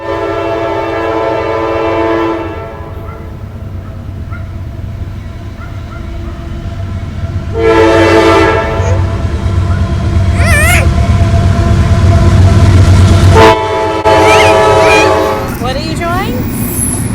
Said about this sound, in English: He goes to see the freight trains.